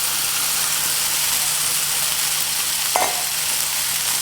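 Vegetables stir-frying in a hot pan for Mongolian beef, a loud, close and constant sizzle with one short metallic clink partway through and no voices.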